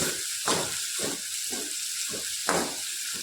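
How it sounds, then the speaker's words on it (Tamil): Onions sauté in a pan for a broiler chicken sukka, a soft continuous hiss and sizzle with rhythmic stirring swishes roughly every half second, close and fairly quiet. "நல்லா அப்படியே வந்து வதக்கிக்கிட்டே இருக்கலாம்"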